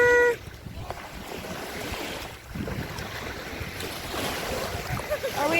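Ocean waves wash onto the shore at DeVoe Beach in Indian River, a continuous broadband surf roar with wind buffeting the microphone, swelling and easing across the clip.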